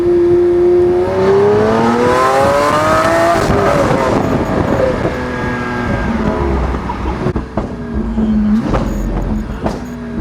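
A Lamborghini V12, Aventador or Murcielago, revs loudly nearby. The pitch climbs and sweeps in sustained wails, then drops back to a rumbling idle, followed by a few sharper blips and a final rising rev.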